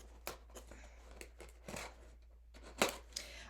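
Scissors make several quick, faint snips at close range, with brief crisp cuts scattered irregularly over a quiet background hum.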